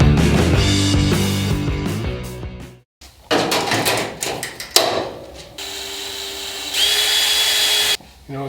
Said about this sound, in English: It's a DeWalt drill bit, but still need to deburr it.